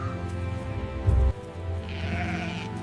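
A sheep bleats once, a short wavering call that stands out over a continuous bed of soft ambient music.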